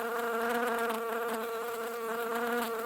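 Steady, continuous insect buzzing of a bee, loud and close, with a sustained droning hum and no pauses throughout.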